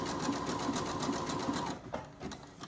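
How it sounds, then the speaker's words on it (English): A Janome 500e sewing machine runs a zigzag stitch, a steady, close mechanical whir with rapid rhythmic needle pulses that slows and falters near the end. "if you use your zigzag stitch, try to get the widest zigzag stitch that you can on this"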